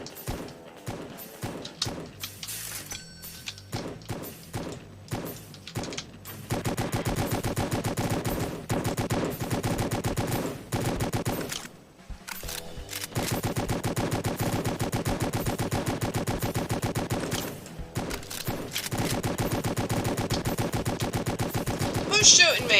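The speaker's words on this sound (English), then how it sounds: "Who's shooting me? Why am I taking damage?" Rapid automatic gunfire rattles in a zombie video game, coming in long bursts separated by brief pauses, with a voice talking faintly underneath.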